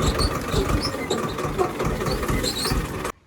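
A farm tractor idles nearby after being parked in the shade during an onion harvest, its engine chugging in a rough, steady rhythm before it cuts off near the end.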